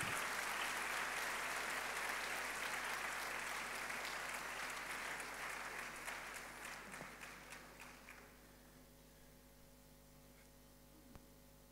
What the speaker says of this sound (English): with a loud round of applause, let's please welcome Honorable Haruna Idrisu.